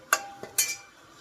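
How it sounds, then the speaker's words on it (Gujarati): A spoon stirs a sizzling tempering for dal in a cooking pot, giving three short metallic scrapes and clinks with a faint sizzle between them, close and fairly quiet. "સરસ વઘાર કરી દીધો, હવે દાળ નાખવાની છે।"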